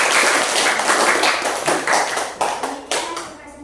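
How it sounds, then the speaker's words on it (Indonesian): A classroom of students claps for a student group after its teaching-practice presentation, a dense burst of applause that fades into a few scattered final claps. "Oke, tepuk tangan buat kelompok 1."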